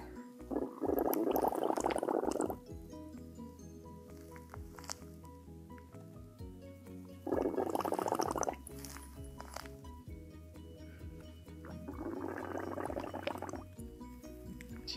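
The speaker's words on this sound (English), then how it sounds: "She's slurping her orange juice." Three bursts of wet slurping as a Baby Alive Sip N Slurp toy doll drinks orange juice through a straw, each a couple of seconds long, separated by quieter gaps with faint background sounds.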